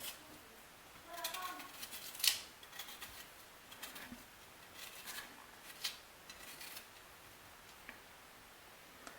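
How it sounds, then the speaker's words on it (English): A knife peels cocoyams (makabo) by hand, making a series of quiet, irregular scraping and ticking strokes with short pauses between them. "So the first thing we're going to do is peel our makabo or cocoyams."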